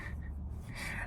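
A dog named Toonie snores, one short, breathy snort close by, with no talking.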